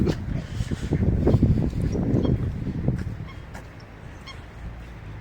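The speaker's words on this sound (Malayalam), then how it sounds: "ഓരോ പക്ഷികളൊക്കെ കരയുന്ന സൗണ്ട് കേട്ടോ." Birds call out in honking, goose-like cries in a UK park, amid a dense, noisy background, with scattered higher chirps continuing throughout.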